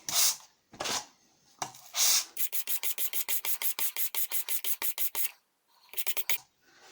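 Coarse 80 grit abrasive is rubbed against a book's edge in a rapid, even run of short scraping strokes, close and crisp, with a few slower strokes at the start and end.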